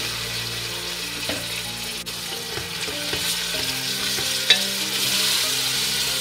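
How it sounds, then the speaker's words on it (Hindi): Steady hiss and sizzle of half a kilo of minced meat frying in a pan for aloo keema, with occasional scraping stirs and a sharp clink, no speech. "इस कीमे को थोड़ी देर भूनेंगे ताकि इसका कच्चापन ख़त्म हो जाए"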